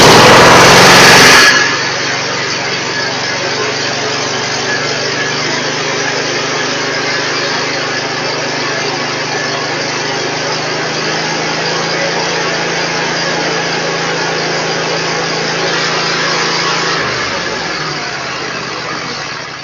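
A John Deere L120 lawn tractor with a V-twin Briggs & Stratton engine starts with a loud burst, then idles in a steady, close drone for most of the span before the pitch shifts near the end.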